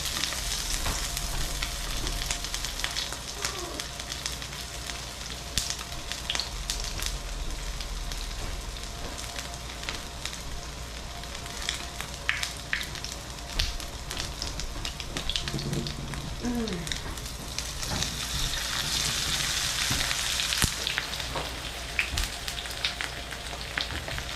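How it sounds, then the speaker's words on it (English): Freshly foraged wild oyster mushrooms fry in a pan with a steady, close sizzle and crackle that runs the whole time, dotted with brief spits and pops and no talking. "Sauteed it down, and then I'm ready to fry that thing up."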